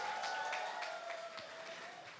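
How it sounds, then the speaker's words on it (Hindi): Audience applause at a film success press meet, a faint, distant spatter of clapping heard briefly under a lingering tone, soft and short. "इसलिए आपके लिए एक बार जोरदार ताली होनी चाहिए"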